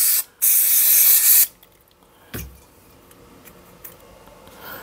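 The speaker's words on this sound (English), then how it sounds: "we've only got one can of brake cleaner" Aerosol brake cleaner sprays onto a Morris Minor carburettor during a rebuild: a loud, close hissing burst, a brief pause, then a longer sustained burst of about a second, followed by quiet shop sounds and a single knock.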